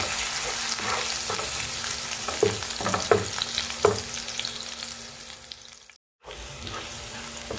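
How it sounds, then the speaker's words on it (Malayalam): Ingredients sautéing in a pan for chicken spaghetti, a steady sizzle with a few sharp stirring scrapes, fading gradually before a brief cut to quieter frying. "നമുക്കിത് ചെറുതായിട്ടൊന്ന് സോട്ട് ചെയ്തെടുക്കാം."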